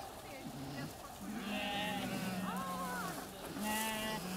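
Sheep on a farm bleating repeatedly at moderate distance, several overlapping wavering calls in quick succession.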